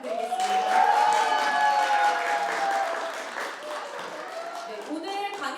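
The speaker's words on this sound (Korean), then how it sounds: "강은영 선생님께 다시 한번 큰 박수 한번 부탁드리겠습니다." Big applause from a seated concert audience for a teacher at a Korean talk-and-performance event, loud at first and tapering, with talk and a rising musical tone over it.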